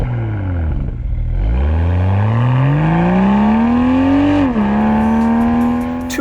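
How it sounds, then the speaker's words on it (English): A 2022 Toyota GR Supra's 3-liter twin-scroll turbocharged inline six-cylinder revs in sport mode, climbing steadily in pitch, briefly dropping as it shifts, then rising again, loud and close with no talk. "This silky smooth inline 6-cylinder engine has plenty of power and makes all the right sounds, especially in sport mode."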